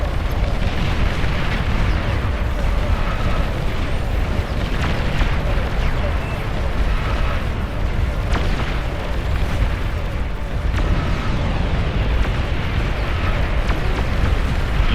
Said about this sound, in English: You just heard some mass missiles being fired.